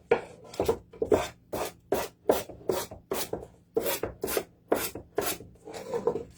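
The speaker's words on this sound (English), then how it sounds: "I'm just sanding that off" Rhythmic rasping strokes of sandpaper rubbing against copper, about a dozen even back-and-forth passes, close and clear with no talking.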